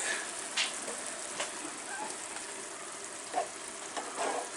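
Red beans and rice cooking in a pot over medium heat, a steady low sizzle with a few soft scraping stirs and light clinks spaced through, close and alone without voices.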